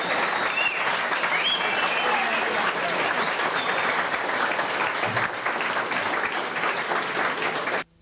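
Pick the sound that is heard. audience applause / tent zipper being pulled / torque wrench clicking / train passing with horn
audience applause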